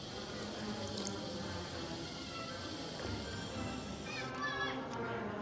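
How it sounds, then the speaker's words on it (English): Water running from a drinking fountain at Magic Kingdom in Walt Disney World's Liberty Square, a soft steady trickle amid outdoor park ambience and faint background chatter. "let's get a quick drink of water at the drinking fountain"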